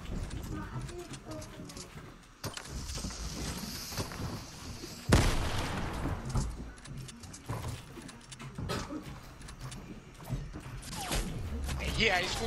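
Gunfire in a video game shooter, scattered sharp shots and bursts, one loud crack standing out midway, mixed with game noise and someone talking over it.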